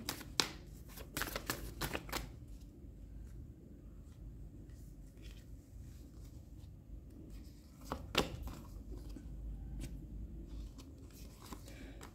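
Tarot cards being shuffled and drawn close up, with crisp riffling flutters in short bursts near the start, then soft rubbing and handling sounds, a brief flurry of card snaps later on, and quiet gaps with no talking.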